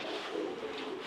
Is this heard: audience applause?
no